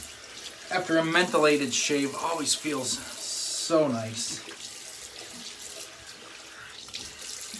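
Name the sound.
cold water running from a tap for rinsing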